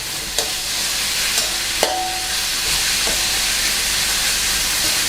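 Fermented pork naem frying with garlic in a pan, a steady close sizzle with a few sharp clinks of a utensil stirring against the pan.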